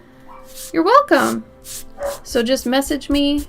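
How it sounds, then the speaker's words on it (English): A dog gives several short barks and yips in the background while a person talks over them. "sorry about the dog barking."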